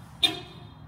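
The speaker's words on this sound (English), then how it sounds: "Honk, honk." A car horn gives one short toot on a street in Leslieville, Toronto, a single brief blast over faint background traffic hum.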